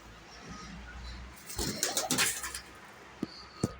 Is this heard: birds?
yes